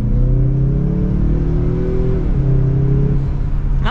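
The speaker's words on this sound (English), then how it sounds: "Not too bad from the little turbo engine." A 2024 Mazda CX-30 with a small turbo engine and AWD accelerates from inside the cabin, a loud, steady engine drone that rises in pitch, dips briefly as it shifts near the middle, then climbs again.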